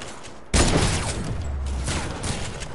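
A sharp, loud sniper shot in Fortnite bursts out suddenly, followed by a sustained booming echo and rumble that lingers for a couple of seconds, with no talking over it.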